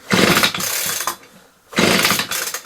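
A Husky leaf blower being pull-started by its recoil cord: two loud, close bursts of rough mechanical whirring, separated by a brief quiet pause.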